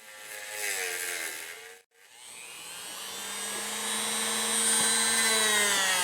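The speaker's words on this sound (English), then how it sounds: "Let me see what I can do with the Dremel." Dremel rotary tool grinding a ring down to bare metal, a steady high whine that drops out briefly, then spins back up with rising pitch and keeps buzzing loudly and close.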